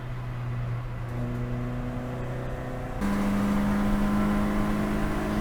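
Onboard engine drone of a 116 Trophy race car lapping Snetterton in a qualifying session, a steady loud tone that jumps in pitch partway through as it shifts gear, with constant road and wind roar and no talk.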